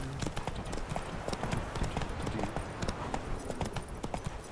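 Rapid clip-clop of horse hooves in the video game The Witcher 3: Wild Hunt, steady and continuous at a trotting pace, close and fairly loud with no voices.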